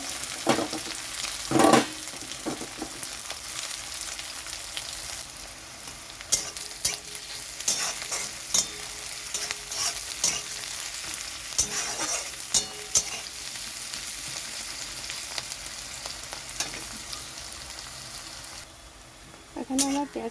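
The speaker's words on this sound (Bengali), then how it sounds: "সর্ষের তেলটা গরম হয়ে গেছে, তো এখানে আমি পেঁয়াজগুলো দিয়ে দিচ্ছি।" Onions sizzle in hot mustard oil with a steady close-up hiss, while a spatula repeatedly stirs and scrapes against the pan, making occasional sharper clatters.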